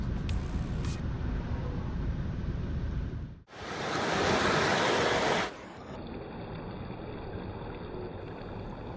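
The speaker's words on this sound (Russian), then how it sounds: "Море." Waves rush and wash ashore at Scheveningen beach in The Hague with a broad, hissing roar, one louder surge swelling in the middle before settling back into steady surf.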